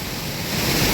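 Brief, steady rushing of a small waterfall, close and fairly loud, a dense continuous wash with no voices.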